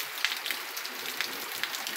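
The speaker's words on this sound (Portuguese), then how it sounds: "a chuva chegou" Light rain pattering on a surface in the Pernambuco sertão, Brazil, soft scattered drops over a quiet steady hiss, close and faint.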